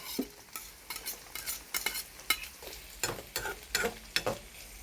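Ginger and green chillies are stir-fried in hot oil for a garlic pickle. A close sizzle runs under quick, irregular scrapes and knocks of a spoon against the pan, with no voices.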